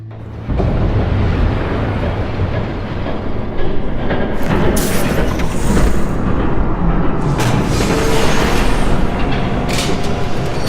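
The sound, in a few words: train passing by, from the video game Batman: The Telltale Series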